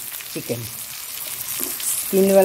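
Ginger, garlic and green chilli paste hitting a pan of skin-on chicken, a soft sizzling hiss under faint stirring, growing louder near the end with a brief tonal sound.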